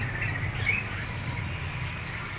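Many small caged birds, including Javan white-eyes, chirp and tweet in quick overlapping calls at a bird market, over a low steady background hum, busy and close.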